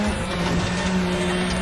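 A car engine roars steadily in the racing video game Need for Speed The Run, a loud continuous drone with a sustained tone and no speech.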